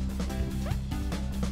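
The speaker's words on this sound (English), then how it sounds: "This dog seems eager to see humans." A dog in Death Road to Canada barks in quick, eager bursts over a loud, busy game soundtrack, with no voice heard over it.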